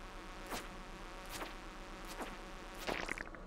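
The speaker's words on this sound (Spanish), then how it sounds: "Ya empieza la mosca esta." A fly buzzes in the Stardew Valley video game, several short whining passes rising and fading at intervals over a quiet background.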